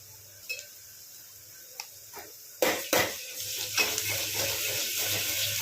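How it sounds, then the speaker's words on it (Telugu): Ginger garlic paste dropped into hot oil and stirred in a pan for a chicken curry: a few soft taps at first, then a sudden loud sizzle with repeated scraping and clinking strokes, close and continuous. "ఈ పేస్ట్ని ఇట్లా మంచిగా వేయించుకోండి"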